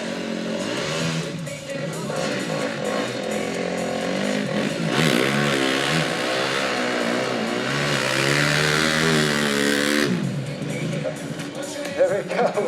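Quad bike engine held at about quarter throttle in an indoor arena at a truck show, a steady mid-pitched drone with rising and falling revs, loud and continuous, with talk over it.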